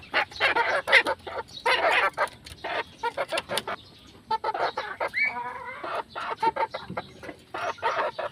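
Game-farm roosters cluck in quick, scattered bursts, several birds close by, with a brief crow-like call in the middle and short quiet gaps between outbursts.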